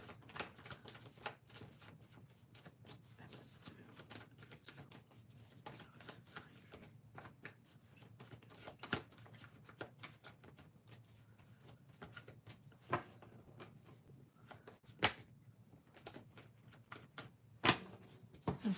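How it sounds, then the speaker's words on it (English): Tarot cards are shuffled over and over, a steady ticking patter of soft shuffles with occasional sharper snaps, fairly quiet and close. "I have to shuffle these cards."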